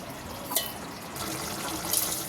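Water runs steadily into a vessel with a continuous gurgling splash, joined near the start by a brief clink.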